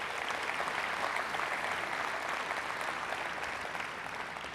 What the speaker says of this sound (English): So please give a big round of applause for our gold, our silver, and our media partners as well who are here today